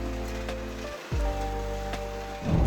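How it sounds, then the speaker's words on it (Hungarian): Rain falls steadily in the Pamir mountains of Tajikistan near the Afghan border, a constant broadband patter with a low hum underneath and a brief dropout partway through. "Közben esik az eső egyébként."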